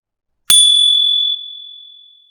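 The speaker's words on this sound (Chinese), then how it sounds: "敲响钟声" A single sharp strike rings the blue-and-white Happiness Bell at the seaside, leaving a clear bright tone that sustains and slowly decays in otherwise silent surroundings.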